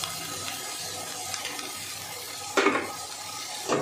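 Spices with coriander powder sizzle and fry in a pan as they are stirred, with a steady close crackle and a few louder scraping bursts of the spoon.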